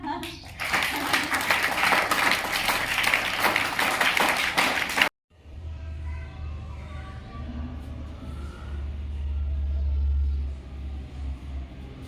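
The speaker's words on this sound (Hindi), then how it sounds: "अच्छा, सबके ताली बजा दो ना।" A classroom of students claps together in a dense burst of applause lasting several seconds, cut off abruptly, followed by quieter room noise with voices and low rumble.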